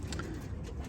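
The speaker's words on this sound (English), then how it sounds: "these are all good racing pigeons" Racing pigeons cooing softly in a loft, a low continuous murmur of several birds close by with faint overlapping calls and no talk.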